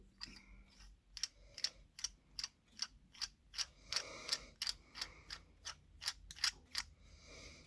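Ultrasabers lightsaber shroud being screwed onto the threaded pommel, a close, steady series of sharp metallic clicks and ratcheting ticks repeating roughly twice a second with no talk.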